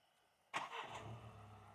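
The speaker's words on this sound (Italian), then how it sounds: "l'auto si è accesa" A Jaecoo 7 engine, started by remote key, turns over with a sudden crank and settles into a quiet, steady idle a short distance away, with no voices.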